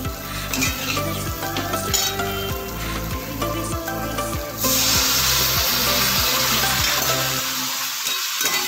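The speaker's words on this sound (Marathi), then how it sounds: "वांगी खालीवर अशी परतत राहिल्यानंतर आपण त्याला थोडंसं पाणी घालणार आहोत" Stuffed eggplant sizzles in a pan while being turned and stirred with a rhythm of scraping strokes; partway through, water hits the hot pan and the sound jumps to a loud, steady hiss.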